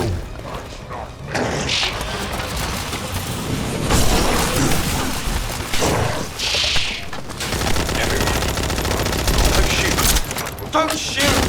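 Dense, sustained gunfire in The First Descendant video game, loud overlapping bursts and booms rolling without a break, with voices shouting underneath.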